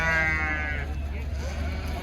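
Sheep bleating among the flocks at the weekly Kerur sheep market, a single nearby bleat standing out at the start over a constant low crowd murmur and market background.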